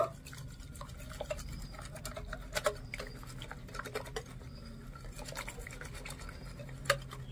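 Rice flour batter with green chillies and coriander is mixed in a bowl, giving soft, continuous stirring and scraping with occasional light taps and clicks against the bowl.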